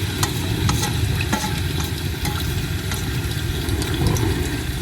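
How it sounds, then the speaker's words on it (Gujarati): Gravy sizzles in hot oil in a pan for Maggi noodles. Up close there is a loud, dense, continuous frying hiss, with occasional scraping clicks from stirring. "હવે તો ગ્રેવી નાખી દેવી."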